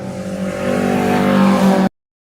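An Alfa Romeo race car engine revs close and loud, its buzzing note climbing steadily for under two seconds before cutting off abruptly into silence.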